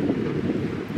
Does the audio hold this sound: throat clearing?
no